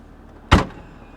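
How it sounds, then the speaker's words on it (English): A convertible car's soft-close trunk lid pulls itself shut with a single firm thud, loud and brief, against faint background noise. "yep, soft close still kind of works. It'll pull it down."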